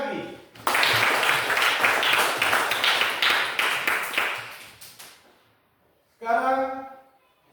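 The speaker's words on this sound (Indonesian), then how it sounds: "Tepuk tangan lagi." A classroom of students claps together for about five seconds, the applause dense and close before fading out, followed by a brief voice after a short pause.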